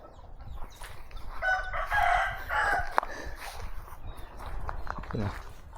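Chickens, with dogs and ducks nearby, crowing and clucking at a rural home in Laos. The fowl calls are moderately close, with someone talking over them throughout.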